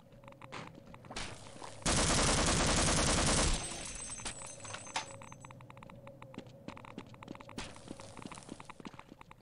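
Rapid automatic gunfire from the video game Half-Life, a dense loud burst of about two seconds, with scattered single shots, clicks and footsteps before and after.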